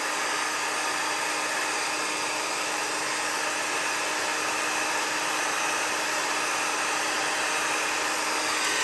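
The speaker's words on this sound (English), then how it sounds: "you usually just warm up your heat gun or tool, let it get warm, and then you're just going to go over the image, let that heat melt" A heat gun blows continuously to melt embossing powder over a stamped image for a craft project, a loud, unbroken whooshing hiss with a steady whine that never pauses.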